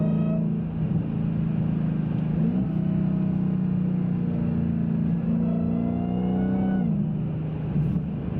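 A Dodge Challenger Hellcat RedEye accelerating hard with its engine note climbing, then dipping at two quick upshifts partway through. The sound is loud and steady from inside or close to the car, with no talk.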